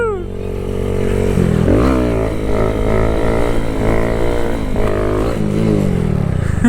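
A motorcycle engine revving hard while popping a wheelie, loud and close, with rising and falling pitch sweeps as the throttle is worked over several seconds.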